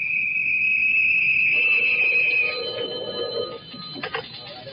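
A telephone rings as a sound effect in a 1946 radio drama, a steady bright electronic tone that changes pitch partway through and then fades into softer trailing tones.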